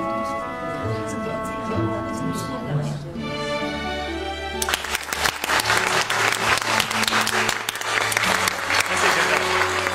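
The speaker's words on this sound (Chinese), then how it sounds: "现场观众的掌声已经告诉你，你已经赢了" A studio audience bursts into loud, sustained applause that begins partway through, following a quieter stretch of music.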